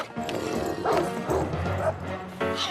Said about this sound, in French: Il a kidnappé un des chiots de Nina!